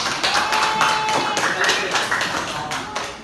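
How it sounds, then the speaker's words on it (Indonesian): A school class clapping their hands for a classmate, a close, uneven burst of claps that thins out toward the end, with some voices mixed in. "tepuk tangan dulu buat Azril."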